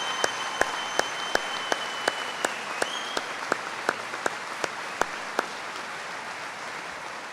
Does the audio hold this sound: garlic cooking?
no